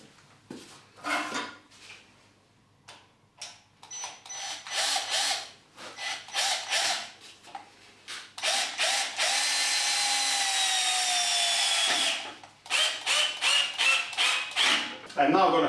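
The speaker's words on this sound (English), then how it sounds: "I can now drive the screw directly in there and that will pull the joint closer together" A power drill driving a screw into the joint of a wooden garden gate, a steady loud whir of several seconds among short bursts of drilling and clattering tool handling nearby, with no talking.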